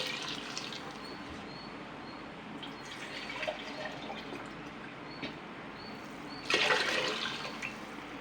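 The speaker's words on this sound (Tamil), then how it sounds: "இப்போ தண்ணி சேர்த்துக்கலாம்." Water poured onto rice in a pressure cooker for mutton biryani, a soft close splashing and trickling that swells into a louder gush near the end, with no talk.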